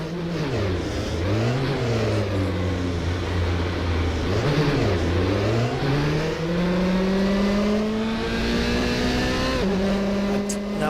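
A race car engine in the rFactor 2 sim-racing game, with no rev limiter, drops and rises in pitch through gear changes, then climbs steadily in a long, loud, continuous acceleration, with a faint tyre squeal and no talking.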